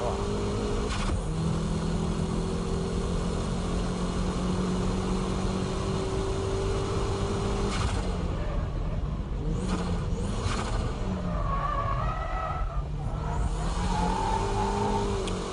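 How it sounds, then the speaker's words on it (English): A car drifting through a corner, its engine revving hard and loud with pitch swings as the throttle is worked, tire and engine noise continuous throughout, with brief voices over parts of it. "That corner entry began as a braking drift, but towards the exit I switched to dynamic drifting."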